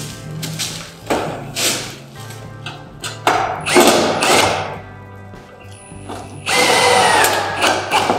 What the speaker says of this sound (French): Et donc on visse à la jonction des deux plaques.